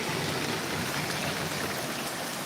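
Steady rain pattering on the ground outdoors at night, a continuous dense hiss of drops close by, with no voices.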